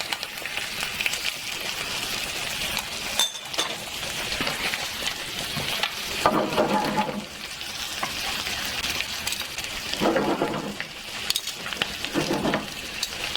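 Butter sizzles and spits steadily in a pan of lamb meat, a loud, close frying hiss like rain on a hard surface. Stirring swells come through now and then, and nobody speaks.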